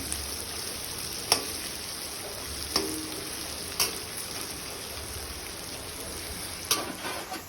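Onions fry steadily in a pan for poha, a soft continuous sizzle carrying a few sharp clicks of stirring spread through the sound, with no voice heard.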